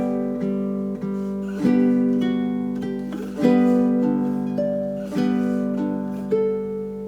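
Baritone ukulele plays four measures of a Hawaiian waltz with steady strummed chords in three-beat time, each strum ringing out and decaying cleanly, solo with no voices.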